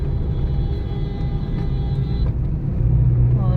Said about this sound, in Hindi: ओवरटेक करने वालों ने हद कर रखी है, ये देखिए, ये गया।